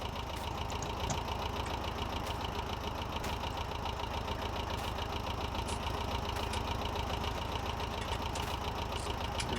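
A 1953 farm tractor idling near a crop sprayer, with a steady, even engine rumble and faint knocking, continuous throughout.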